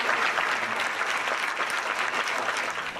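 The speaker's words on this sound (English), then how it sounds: "cheering on the astronauts" A viewing-party crowd in Longueuil, Quebec, cheers and applauds an astronaut launch, with sustained dense clapping and cheering throughout, loud and close.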